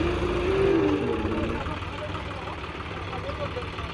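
A tractor engine runs at a steady idle, a continuous low rumble that is slightly louder at first and then evens out, with a voice heard over it early on.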